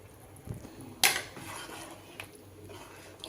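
Soaked rice tipped into a metal pot of boiling water for chicken biryani, a sharp clatter of utensil on the pot followed by soft stirring and scraping, close and without talk.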